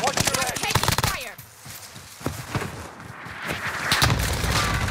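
Bursts of gunfire echo through a Call of Duty Warzone match, sharp shots popping under shouted in-game callouts and player voices, with louder rattling fire returning toward the end.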